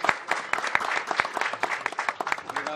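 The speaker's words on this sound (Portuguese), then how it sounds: "agora os aplausos é para os maragatos que estão lá no canto" An audience at a water park event applauds with distinct, uneven claps that stay fairly close and lively for a few seconds, and no one speaks over them.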